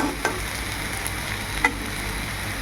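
Raw papaya sputters as it fries in a pan, a constant close sizzle with a few quick spatula scrapes and taps breaking through.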